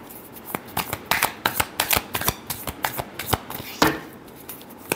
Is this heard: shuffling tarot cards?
yes